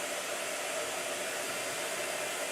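A blow dryer blows steadily on a watercolor painting, giving a constant, loud airy whoosh with a faint motor tone and no speech throughout.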